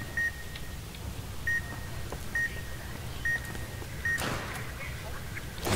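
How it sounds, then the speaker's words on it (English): Repeated short electronic beeps from an alarm in the video game Fallout New Vegas, sounding at a steady interval over low background noise, with a louder clatter near the end. "How do I get rid of those beepers?"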